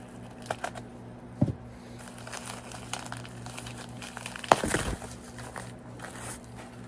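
Crinkly priority mail packaging from a vintage LEGO parcel being handled, with soft, sporadic rustles and a few sharper crackling bursts at close range, no talking.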